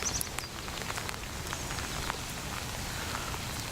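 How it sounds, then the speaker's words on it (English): Heavy rain pours steadily during a fishing outing with topwater poppers, a dense, constant hiss of drops striking water and surfaces, with no talk over it. "It's raining so hard."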